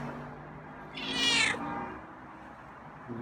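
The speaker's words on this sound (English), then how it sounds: "That's a meow." A pet cat named Scruffy, being tamed from feral, lets out a single clear drawn-out meow at close range in an otherwise quiet room.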